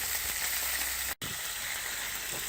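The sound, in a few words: venison roast searing in a Dutch oven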